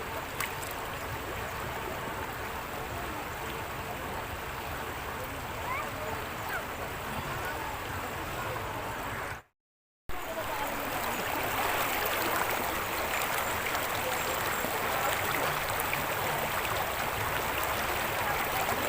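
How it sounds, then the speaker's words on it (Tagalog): A strong river current at Daraitan in the Philippines rushes steadily and loudly throughout, a dense broadband wash of flowing water that stays close and constant, broken only by a brief dropout midway. "Malakas ang agos."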